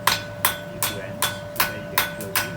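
Blacksmith hammering down the ends of a horseshoe on an anvil: six sharp, ringing metal strikes at a steady rhythm of roughly two per second, close and loud with a sustained anvil ring between blows.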